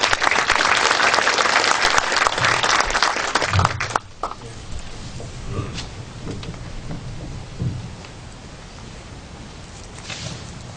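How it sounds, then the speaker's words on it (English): An audience at a LabVIEW conference session gives a round of applause, dense clapping for about four seconds that then thins into scattered claps and room noise. "Let's give him a round of applause."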